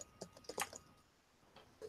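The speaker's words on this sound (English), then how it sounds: "I'm sorry if my mechanical keyboard offended you, Gio." Clicky keystrokes on a mechanical computer keyboard come in short, uneven bursts, close and fairly faint, with a pause before a final tap and no talk.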